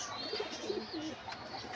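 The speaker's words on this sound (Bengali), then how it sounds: "আবার নিচেও অনেক কবুতর আছে।" Pigeons coo softly on a rooftop in low, throaty bursts against a steady outdoor hiss, with a few faint chirps and a brief flutter.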